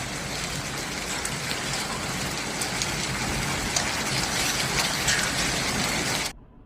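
Heavy rain pours steadily during a typhoon-like storm with large hail in northern China, a dense, loud, continuous hiss of drops on surfaces that cuts off abruptly near the end.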